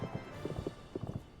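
Horse hooves clip-clop in Final Fantasy XIV as a mount walks along, a steady run of soft, close footfalls over low background game ambience.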